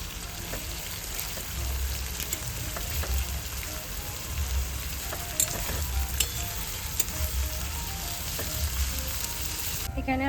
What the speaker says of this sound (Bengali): আর এখানে আমার বেরেস্তা ভাজা চলছে, এখনো ভাজতে অনেক সময় লাগবে